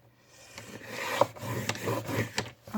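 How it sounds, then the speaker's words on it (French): Scissors cut away the torn part of a paper page for a junk journal, giving a few close, soft rasping snips and rustles of paper in quick succession, with no talk. "Je vais découper la partie déchirée, ça ira bien."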